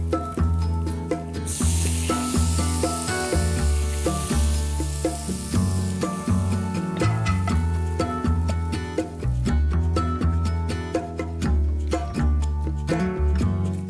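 Ginger, garlic, green chilli and spices fry in a pan for Indian-style egg bhurji, a loud, continuous sizzle with stirring clatter throughout and strong tonal background sounds running underneath.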